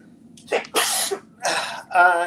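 A person lets out a few sharp, breathy sneezes in quick succession, close and loud. The last burst is more voiced.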